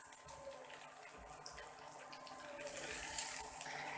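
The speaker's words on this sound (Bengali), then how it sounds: "এবং দিয়ে দিলাম জল পরিমাণ মতো" Water poured steadily into a prawn malai curry in a pot, a soft continuous splashing stream that swells slightly toward the end, quiet and close.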